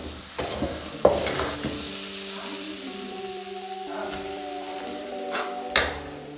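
Masala mixture for wheat madakku cooks in a pan as its water dries off, giving a soft, steady sizzle with occasional scraping and clinking from stirring, under a faint background hum.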